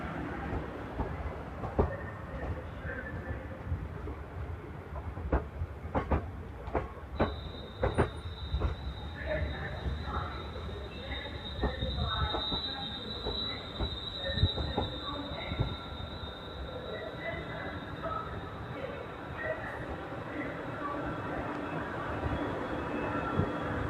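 A London Northwestern Railway train from Liverpool Lime Street arrives at Crewe station on the West Coast Main Line, rumbling and clattering over the rails, with a long high wheel squeal and station echo.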